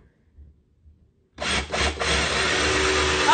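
After a near-silent start, a drill kicks in and runs steadily, drilling into a carrot, grinding harshly and loudly up close with a few uneven surges.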